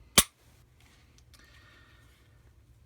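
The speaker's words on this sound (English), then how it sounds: "to field strip a Glock, you're going to have to dry fire it" A single sharp trigger click from a dry-fired Glock 22 pistol, close and crisp, followed by near silence.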